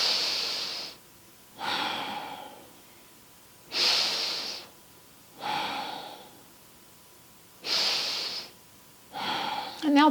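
Slow, deep breathing during a seated chair yoga exercise, close and clear: alternating long inhales and exhales, each lasting about a second, in an even rhythm with quiet pauses between them.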